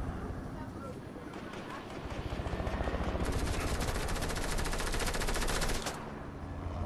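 A minigun in the video game Fortnite spins up into a fast, buzzing stream of rapid shots that swells and then cuts off, mixed with a low mechanical rumble and brief talk.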